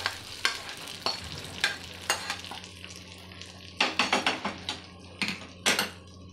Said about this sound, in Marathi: आता हा तडका आपण या बॅटरवर टाकून देणार आहोत